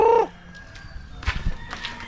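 A loud, drawn-out chicken call opens, followed by softer scattered clucks and scratchy movement close by, near Taal Lake.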